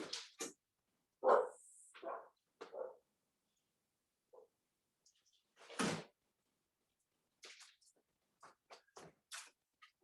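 A dog barks indoors at home in scattered short bursts separated by silence, moderately close and fairly clear, over about ten seconds.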